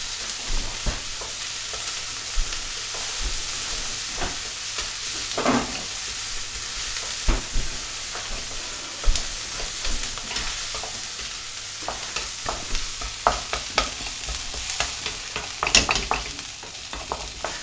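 Chilli con carne ingredients fry in a pan, a continuous close sizzle with frequent irregular scrapes and clatters of a utensil stirring, growing busier toward the end, with no voices.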